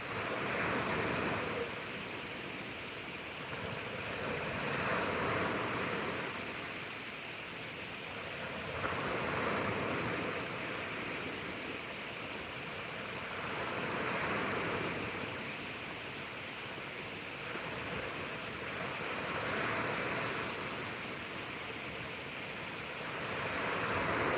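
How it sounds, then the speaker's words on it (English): Ocean waves wash onto a beach in slow, regular surges, a broad rushing roar that swells and recedes with some wind, no voices. "enjoy the view, enjoy the sounds of the waves"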